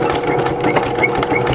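A sewing machine with a walking foot stitches steadily along the edge of a fabric coupon wallet, a close, loud, continuous mechanical whirr with rapid rhythmic needle clatter.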